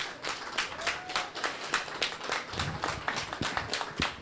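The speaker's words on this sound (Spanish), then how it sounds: "les pido un aplauso para los coautores" Audience at a university book launch for social work research clapping for the co-authors, a moderately distant, fairly sparse run of individual claps with uneven rhythm.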